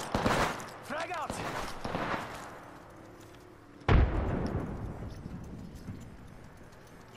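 A grenade bursts in a video game with a sudden loud boom about halfway through, followed by a lingering rumble; softer scuffling and thuds come before it, and no one speaks over the blast.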